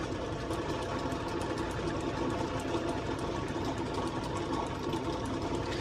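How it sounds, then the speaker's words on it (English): An old metal lathe cuts with the tool bit advanced by hand, giving a steady, close mechanical whir and chatter that holds evenly throughout with no talking. "But this I'm doing all by hand, meaning I'm rotating the tool bit"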